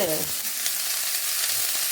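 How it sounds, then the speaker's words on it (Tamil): Chopped baby cabbage sautéing in a hot pan for Tamil-style poriyal, giving a steady, close sizzle and frying hiss with a brief stirring scrape at the start. "கொஞ்சம் வதக்கி விடுவோம்."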